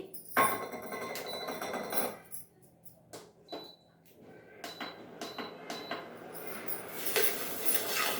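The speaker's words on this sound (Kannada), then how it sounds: "ಇವಾಗ ಫಸ್ಟ್ ಧನಿಯಾ ಉರಿತಾ ಇದ್ದೀನಿ ನೋಡಿ" Coriander seeds dry roasting in a pan in a home kitchen, with scattered clinks and scrapes of a utensil against metal and light rattling of seeds, irregular and fairly quiet.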